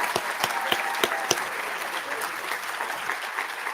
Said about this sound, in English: let's give another round of applause to everyone